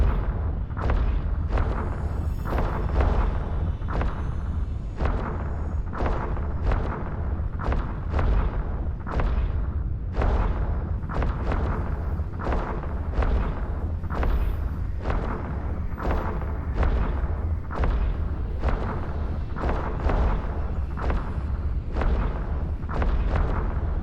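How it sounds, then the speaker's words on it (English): Heavy ship weapons in the space game EVE Online fire in a steady rhythm, each shot landing as a deep, booming, cannon-like report spaced roughly a second apart, loud and continuous for the whole stretch with no talking. "I'm going to hit F1 so that it can start firing"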